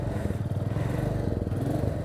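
A motorcycle engine idles steadily, warmed up and ready to ride in a hill village in Darjeeling, a loud, close, continuous rumble with a throbbing pulse and no talk over it.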